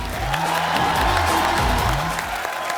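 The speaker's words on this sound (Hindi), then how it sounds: "आपकी जोरदार तालियों के बीच स्वागत करना चाहूंगा मिस्टर रणदीप हुड्डा का।" Studio audience at a Kapil Sharma comedy show applauding and cheering to welcome a guest, a dense, loud wash of clapping with whoops, continuous over about three seconds, with music underneath.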